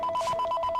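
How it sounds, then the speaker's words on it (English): A mobile phone rings in short, evenly spaced electronic chirps, a quick repeating two-tone trill at moderate level, heard alone. "That's my phone ringing."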